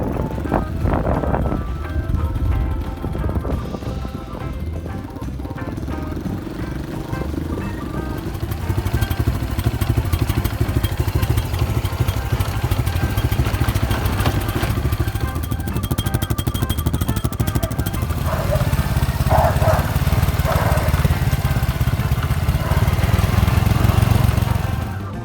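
A Honda Wave motorcycle engine runs steadily and fairly loud throughout, a continuous low drone with some rattling mixed in and a slight rise in level partway through.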